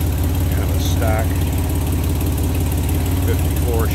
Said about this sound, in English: You can see smooth running engine.